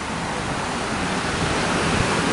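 Sea surf washing onto the beach at Haad Rin on Koh Phangan, a constant broad wash of waves with some wind, steady and fairly loud, with no talking.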